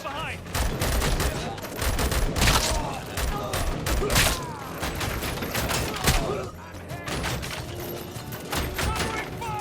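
Covering gunfire during a firefight in RoboCop: Rogue City, dense rapid bursts and booming shots cracking continuously at close range, with voices shouting amid the barrage.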